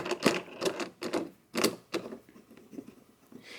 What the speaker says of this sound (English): now we'll take some of these knobs and just start tightening them down